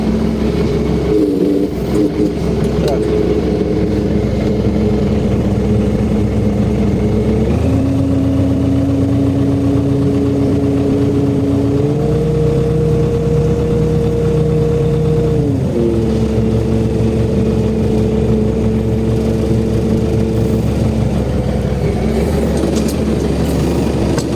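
Truck engine running steadily at idle near a 2PTS-4 trailer while air pressure builds for the trailer brakes; a continuous low drone shifts pitch twice, rising around the middle and dropping back later.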